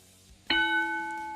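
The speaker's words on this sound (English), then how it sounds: "Bell sounds actions underway, and here we go." A single ring of the match bell in a pro wrestling video game strikes sharply and leaves a bright tone that slowly fades over the next second.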